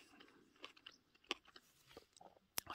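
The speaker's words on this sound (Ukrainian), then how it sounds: "Шкурка хрустить." Crunchy skin of a Santa Rosa diploid plum bitten and chewed, with several close, sharp crunches and a loud snap near the end, no talk.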